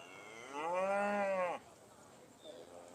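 A Beef Shorthorn heifer at the Great Yorkshire Show gives one loud, drawn-out moo lasting about a second, followed by quiet showground ambience.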